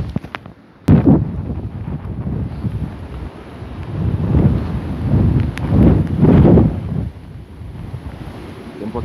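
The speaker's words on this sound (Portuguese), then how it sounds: "A gente ouve aqui em cima o vento passando pelos cabos de energia." Strong wind from a subtropical cyclone roars past power cables on high ground in Porto Alegre, loud rushing gusts that buffet the microphone and swell and fade in waves.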